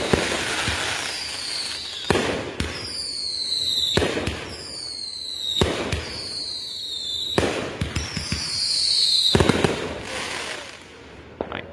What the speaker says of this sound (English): defeating Mother Nature to pull off this miraculous fireworks show